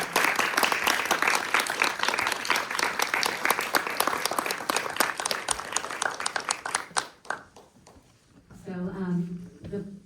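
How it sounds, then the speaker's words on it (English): An audience at a Q&A event bursts into thick, lively applause that carries for several seconds, then thins out and fades, leaving a single voice speaking at the end. "Let's give our applause to"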